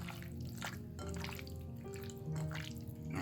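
Hands being washed under a running kitchen tap while cooking crispy cream dory fish fillet: a steady, close stream of water with drips and splashes, no talking.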